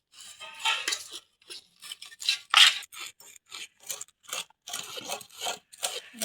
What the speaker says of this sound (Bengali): আমি, এসে কাটা চামচ দিয়ে ভালোই ছাড়ানো যেতেছে আঁশগুলো।